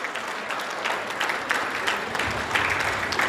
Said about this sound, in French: on peut applaudir pour l'intelligence